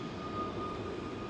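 Jet aircraft departing overhead from London Heathrow's runway 09R, a steady broad engine roar with a low rumble, loud and sustained throughout, no voices.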